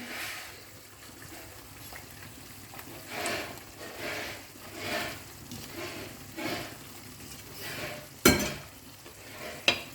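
Soft stirring and sizzling in a pan as fish is added to an Indian fish curry, rhythmic scraping strokes over a quiet frying hiss, with a couple of sharper clanks near the end.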